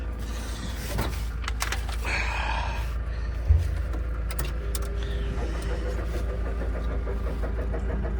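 A car engine cranks over repeatedly trying to start after sitting, one of several cheap cars picked up in a week, with starter churning and mechanical clatter close by under steady low rumble.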